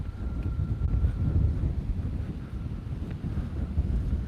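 Strong high wind gusting outdoors, a constant loud low roar that swells and dips slightly, with a faint brief tone early on and no speech.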